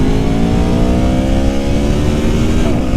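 A 2019 Aprilia Tuono Factory motorcycle engine revs loud and close, holding a steady high-pitched drone that climbs slightly before easing off, with no talking over it.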